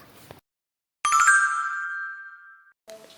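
A single bright school bell rings with a sustained metallic tone that fades out over about a second and a half, alone between brief bits of quiet.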